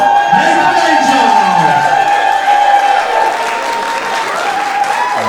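A wrestling show crowd applauds and cheers in a loud, sustained roar of clapping and shouts that eases slightly toward the end.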